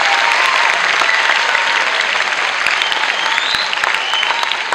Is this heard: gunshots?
no